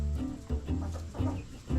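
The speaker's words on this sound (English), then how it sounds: "You sneaky chickens." Backyard homestead chickens clucking close by in a few short bursts of low throaty calls, with no one talking.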